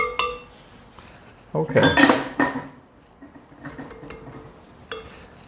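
Metal and utensil clinks and scrapes as a beater blade is pulled off a stand mixer and scraped clean of white chocolate cranberry pistachio cookie batter, a burst of clatter in the middle with a brief voice at the end.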